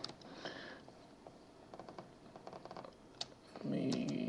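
Computer keyboard keys are tapped in short bursts while names are copied and pasted into a spreadsheet, soft close clicks with pauses, ending with a louder burst of rustling noise.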